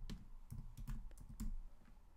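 Computer keyboard keys clack in a short typing burst of about half a dozen quick, uneven taps, close and fairly quiet, with no voice over them.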